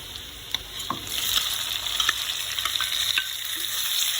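Chopped tomato sizzles and crackles in hot oil with browned onions for a Kerala-style fish curry, a steady close frying hiss with occasional sharper pops and stirring scrapes, no talk.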